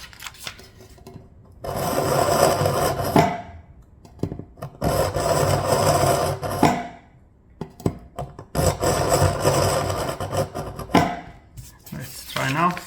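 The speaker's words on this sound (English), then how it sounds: "Let's try to sharpen it a bit more." A dull knife is drawn repeatedly through a cheap handheld kitchen sharpener, giving three long bursts of scraping and grinding with short pauses between them, close and fairly loud.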